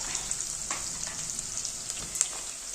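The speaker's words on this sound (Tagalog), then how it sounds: "Nagsisimsim yung mga sibuyas" Onions sizzle and fry in a pan while cooking in Nepal, a steady close crackle with scattered sharper pops, a brief louder spatter near the end, and no talking.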